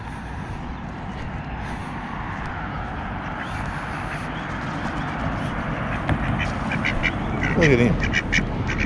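Ducks quack outdoors, short nasal calls breaking through a constant background hum, with someone talking over them most of the time.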